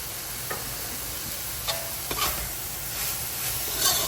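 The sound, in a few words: stirring cabbage and vegetables frying for Guyanese beef chowmein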